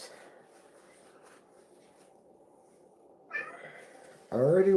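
A pet cat meows up close, with a short call partway through and a louder, drawn-out meow at the end. A quiet room and faint talk fill the earlier stretch.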